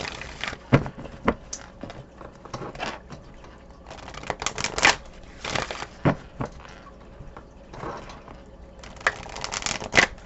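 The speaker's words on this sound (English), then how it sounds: "I'm going to shuffle on camera because I have a feeling this is going to be a good one" A deck of cards being shuffled up close, with papery riffles and sharp flicks in irregular bursts over a quiet background, and no talking.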